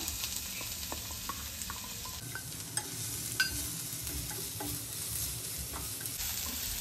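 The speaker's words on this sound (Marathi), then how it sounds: "तेल गरम झालंय. सो त्याच्यात मी टाकते कांदा" Onion dropped into hot oil in a heated pan, a bright constant sizzle with scattered spatters and a few stirring scrapes, close and clear with no talking.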